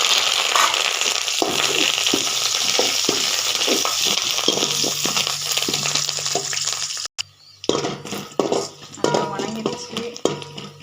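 Garlic and curry leaves frying in hot oil with a steady sizzle and occasional metal spoon scrapes and stirs, the sizzle dropping away briefly near the end before clinks resume.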